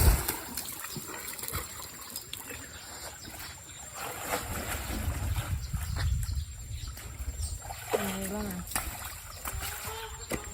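Water splashing and trickling while a muddy dog is bathed outdoors, with irregular close splashes and pouring sounds throughout and people talking over it.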